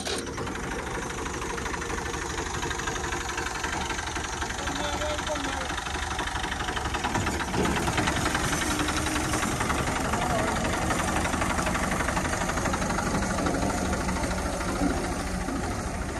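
A motorcycle engine idles steadily at close range on a rural farm track, its low continuous rumble unbroken throughout with no pauses.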